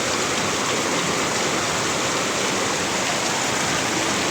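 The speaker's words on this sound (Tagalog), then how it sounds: "kung alam na ninyong medyo malakas na yung ulan" Heavy rain pours down in a dense, steady roar of broadband noise, loud and continuous throughout with no voices.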